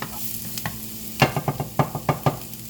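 Onion frying in a pan, a close steady sizzle overlaid by a quick run of rhythmic scraping stirs that hit the pan around eight times in a row, with no talking.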